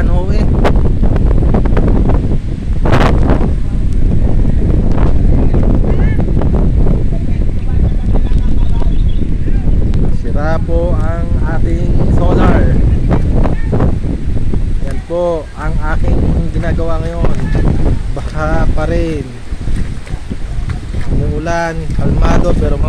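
Typhoon Cristine sweeps across Calatagan with loud, constant roaring wind buffeting the microphone and rushing water surging throughout, as someone talks over the storm in the second half.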